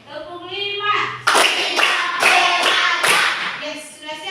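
Schoolchildren in a classroom clap in unison during a rhythmic clapping game, producing several loud, evenly spaced bursts of hand claps between stretches of voices.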